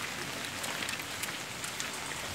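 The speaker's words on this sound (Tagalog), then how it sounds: "Umuulan." Steady rain falling outdoors, a dense continuous patter with scattered sharper drops, moderately loud and unbroken, with no voices.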